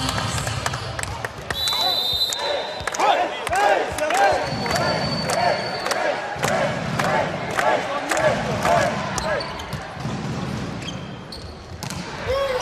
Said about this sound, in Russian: Заводятся болельщики Кузбасса.